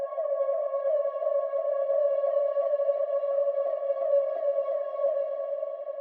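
Synth ambience built in Vital from a saw wave with an envelope-driven filter, chorus and distortion: a sustained, steady droning tone with layered harmonics, held evenly at moderate level and cut off abruptly at the end.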